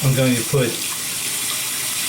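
Warm water runs steadily from a tap onto a shaving brush sitting in a bowl, a continuous close splashing hiss after a few spoken words.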